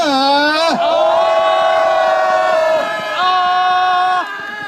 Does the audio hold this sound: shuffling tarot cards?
no